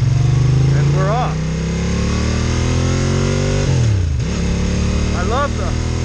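A Bimota Mantra motorcycle with an air-cooled Ducati V-twin pulls away, its loud, close engine revving up through the gears with a brief drop between shifts, heard under wind noise.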